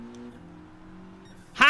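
Mitsubishi Group 4 race car engine in Gran Turismo 7 holds a steady, moderate drone for over a second, then a sudden loud burst at the end.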